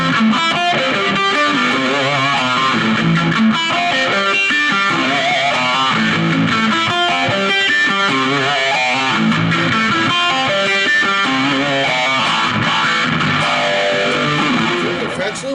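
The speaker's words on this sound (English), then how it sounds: "the phaser sounds fantastic in front of the amp" Loud electric guitar chords from an Epiphone ES-335 Pro through an Orange Crush 35RT amp, with a gritty distorted tone and a swirling, sweeping phaser effect, playing continuously and up close.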